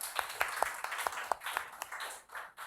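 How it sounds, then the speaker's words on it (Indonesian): Scattered hand claps from a classroom of students applauding a presenting group after an Islamic studies lesson on purification, fairly faint and sparse, several distinct claps over a soft murmur with no clear talking. "Kita berikan aplaus dulu kepada kelompok 2 sudah menampilkan hasil presentasi yang sangat luar biasa."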